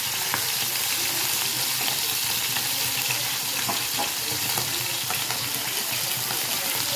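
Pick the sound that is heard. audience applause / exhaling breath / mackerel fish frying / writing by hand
mackerel fish frying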